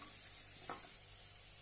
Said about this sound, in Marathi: कांदा आपण लालसर असा परतून घेऊया